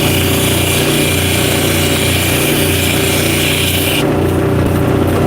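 Diamond lapidary wheel grinding hard stone at the wheel's edge after a 220-grit pass, giving a loud, steady motor whine and abrasive hiss that runs continuously without pause.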